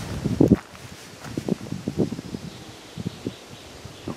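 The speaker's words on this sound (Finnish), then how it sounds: "Pientä tuulta tekee näköjään." Leaves rustle softly in a light breeze with scattered dry crackles close to the microphone, and no voices.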